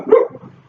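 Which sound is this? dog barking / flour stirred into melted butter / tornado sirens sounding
dog barking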